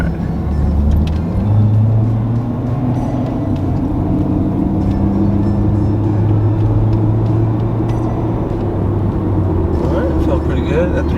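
Nissan Altima four-cylinder engine droning while driving, a steady low rumble with road noise close inside the car, with a person talking over it.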